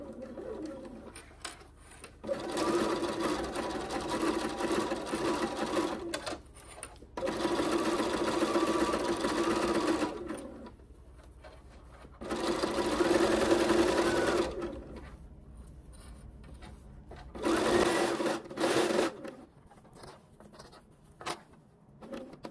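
Sewing machine stitching rows of shirring into a fabric panel, running in four sustained bursts of steady mechanical whirring separated by short pauses, close and moderately loud.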